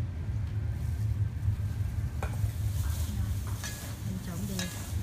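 Pomelo peel being stirred with sugar and lime juice, a steady wet mixing and scraping texture with a few soft clicks, fairly close, no talk.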